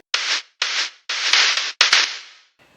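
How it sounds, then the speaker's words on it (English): Four bursts of hissing synthesized white noise made in FL Studio, cut off sharply, with a few clicks; the last burst fades out, followed by a faint tail. "It's just some white noise right here."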